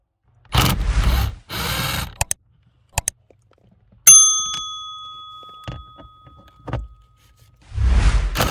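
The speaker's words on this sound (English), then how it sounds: "we'll remove the 3 screws holding the actuator in place with the 7mm socket." Screws removed with a 7mm socket from an air-conditioning blend door actuator on a 2004 Honda Pilot, close ratcheting bursts, metallic clicks and a ringing tool clink.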